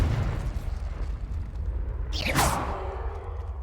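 A Confringo fire spell in Hogwarts Legacy sweeps in with a rising whoosh and bursts into a fiery blast partway through, over a steady low rumble of game background.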